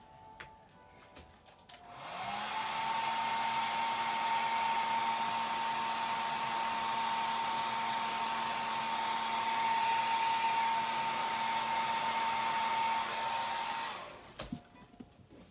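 Hot air gun heat-setting airbrushed paint on a bluegill crankbait, switching on with a steady whooshing whine that runs evenly for about twelve seconds before cutting off.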